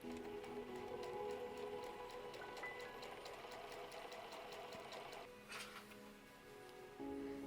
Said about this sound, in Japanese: 7mm の縫い代で縫います。